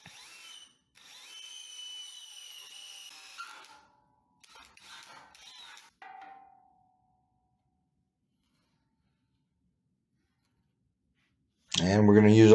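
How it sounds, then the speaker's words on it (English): Power drill boring a pilot hole in a steel auto body fixture made with Fireball squares, a high whining run of a few seconds, then shorter bursts and silence before a voice speaks. "we're going to drill pilot hole first"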